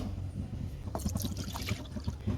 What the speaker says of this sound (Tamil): இப்போ ஐஸ்கிரீம் செய்கிறதுக்கு ஒரு கடாயில் தண்ணி கலக்காத கெட்டியான பாலை சேர்த்துக்கலாம்